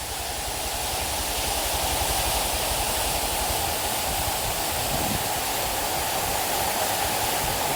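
Water pouring down a monsoon waterfall at Malshej Ghat, a steady, loud, dense roar of falling water that continues without a break from start to finish.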